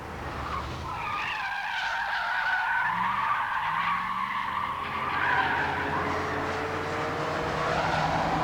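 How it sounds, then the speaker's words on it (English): An AC Ace sports car oversteers as its tyres skid and squeal loudly and continuously, a wavering high screech over the steady roar of the engine, close by and without speech. "just that touch of oversteer if you push it a little bit too hard"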